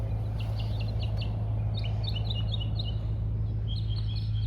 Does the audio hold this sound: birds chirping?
yes